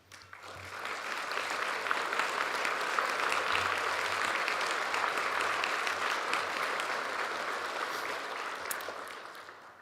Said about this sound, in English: would you please stand so we can give you a round of applause as well?